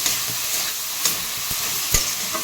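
A spoon scrapes through ponnanganni keerai greens and freshly grated coconut in a hot pan over a slow-to-medium flame, with a soft continuous sizzle and a few sharper scraping strokes close up.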